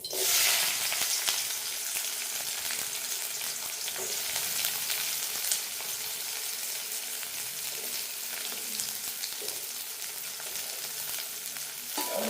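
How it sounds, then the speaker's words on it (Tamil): Onions dropped into hot oil, a loud bright sizzle from the first moment that settles into a steady hiss, with faint stirring scrapes throughout. "எண்ணெய் கொதிச்சுட்டு பாருங்கோ நாங்கள் இனி என்ன செய்யப்படுமெண்டா வெங்காயத்தை போடுவோம்"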